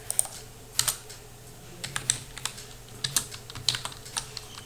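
Close, crisp keystrokes on a computer keyboard come in uneven bursts with short pauses as HTML table code is entered, clear and alone with no voice over them.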